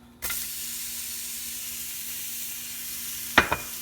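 Onions dropped into a hot pan of sauce, with a sudden burst of sizzling that settles into a steady hiss, then a couple of sharp clinks of a utensil near the end.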